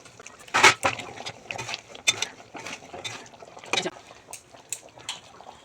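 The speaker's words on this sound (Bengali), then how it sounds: "দেখো ঝোলটা ফুটে উঠেছে, তাই কিন্তু আমি এগুলো কিন্তু আস্তে করে ঢেলে দেবো" Cauliflower koftas slipped slowly into a boiling gravy in a pan, giving soft irregular splashes and wet plops with a few metallic clinks, close by, with no talking.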